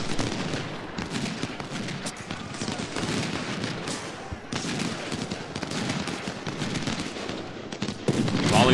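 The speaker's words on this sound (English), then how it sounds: "Volley fire." Musket volleys in Ultimate General, a Civil War battle game, crackle as a dense, continuous rattle of many shots fired by lines of infantry. The gunfire is loud and sustained throughout, swelling near the end.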